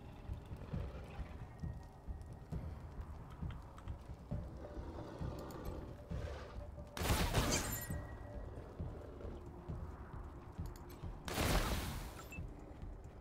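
Sniper rifle shots ring out in Wasteland 3, two sharp loud bursts several seconds apart cutting through a low, busy game background.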